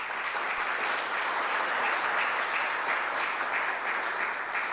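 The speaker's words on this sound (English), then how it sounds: "Please give them a round of applause again as well." Steady, continuous audience applause at the launch event for the SAHRIS 2.0 system, dense clapping from a crowd held at an even level throughout with no speech over it.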